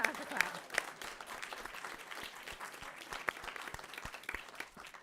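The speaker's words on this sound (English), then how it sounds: "Okay, now we have to clap." An audience at a school board meeting claps in a steady round of applause, with scattered sharp individual claps and murmuring voices mixed in, at moderate loudness.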